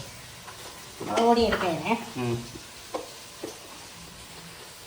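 Onions sautéing in a pan for a Kerala-style country chicken curry, with steady sizzling and a few stirring scrapes beneath people talking, followed by quieter frying with occasional soft clinks.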